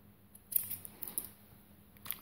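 A few quiet, crisp snips of scissors cutting off the ends of cord, heard close in a near-silent room, spaced irregularly over a couple of seconds.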